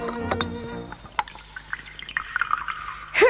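Water trickles and drips into a glass, with a brief gurgling pour toward the end; close and fairly quiet, no talking.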